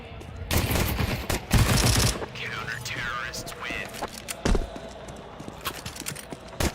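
Gunfire in a Counter-Strike 2 professional match, loud bursts of rapid shots in two clusters with a later single crack, mixed with softer game effects and a voice talking.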